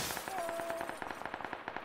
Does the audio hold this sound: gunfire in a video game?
yes